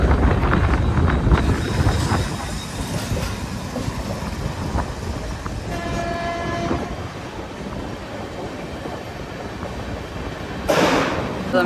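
Riding a Kalyan to Kasara local train: steady rumble and rattle of the carriage throughout, with a train horn sounding briefly in the middle and faint clatter, no talk.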